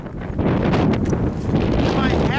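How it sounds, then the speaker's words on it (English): Strong wind gusting outdoors on a cold, exposed day near beehives and a shooting range, roaring steadily across the microphone with a constant broadband rush and no pauses. "And you can just hear the wind."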